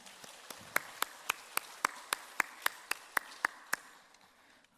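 A church congregation at a weekday worship service claps in unison, giving about a dozen evenly spaced, sharp claps at a steady rhythm before stopping, with nothing else heard between them.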